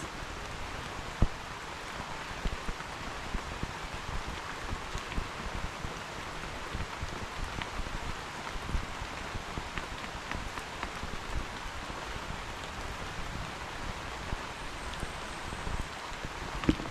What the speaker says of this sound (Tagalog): It's raining time. It's rainy day.